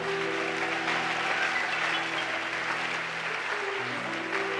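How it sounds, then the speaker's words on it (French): A church congregation applauds and cheers for the Lord, a dense, sustained wash of clapping that fills the space evenly from start to finish, with a background drone underneath. "Est-ce que tu peux acclamer le Seigneur?"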